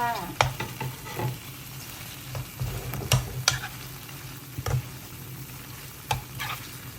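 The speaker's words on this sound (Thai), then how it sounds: "ผัดหมูให้สุกนะคะ" Pork is stir-fried in a pan for a Thai red curry with Thai eggplant, a soft sizzle broken by repeated irregular scrapes and clacks of the spatula, close and fairly quiet, with no talking.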